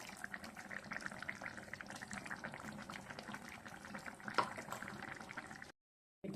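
Fish molee curry boils in a pan with a steady, dense bubbling hiss and faint pops. The sound is fairly quiet and continuous, then cuts briefly to silence near the end.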